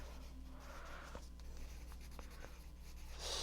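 Handwriting on colored card stock, soft scratchy pen strokes in a few short bursts, close and quiet over a low steady background hum.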